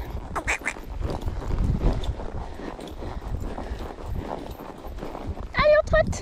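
A horse trots along in a rhythmic clip-clop of hooves, steady and fairly close, with a rider's voice calling out over it and a short whinny-like sound near the end.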